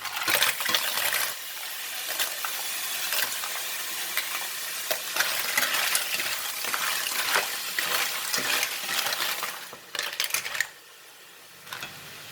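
Clams (lala) stir-frying with chili in a hot pan, a steady close sizzle and crackle with scattered clicks and scraping stirs of shells, fading to a quieter hiss near the end.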